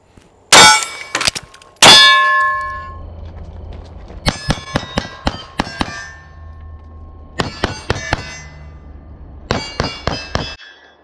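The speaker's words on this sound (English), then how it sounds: "just your standard shooting a plate rack on the move" Gunshots ring against steel plates on a plate rack while the shooter moves, coming in tight bursts of sharp metallic clangs with pauses between strings. The impacts are loud and close, with no talk.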